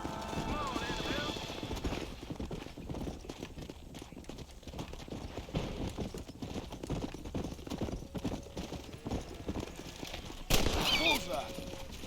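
Horse hooves clip-clop in a Western video game, a steady trotting rhythm under gameplay sounds and voices, with a sharp gunshot-like burst near the end.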